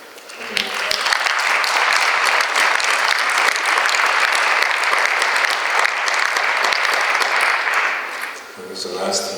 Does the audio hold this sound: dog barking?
no